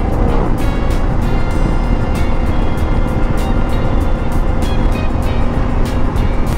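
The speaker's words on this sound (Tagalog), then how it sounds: "Halos puro mga tricycle at saka single motor lang nakakasalubong natin." Road traffic on a wide, open highway near Tagkawayan, mostly tricycles and single motorcycles passing, heard as a steady, dense rumbling engine and wind noise from inside a moving vehicle with no speech.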